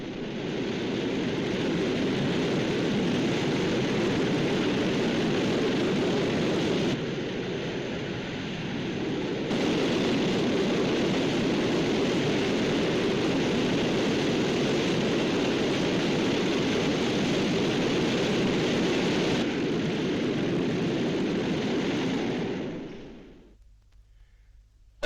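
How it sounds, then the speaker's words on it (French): Mirage III prototype jet's rocket engine under test, a loud, steady roaring blast that holds for over twenty seconds, dips briefly, then cuts off and fades near the end. "son moteur fusée est également soumis à des tests de nature à faire frémir Vulcain lui-même"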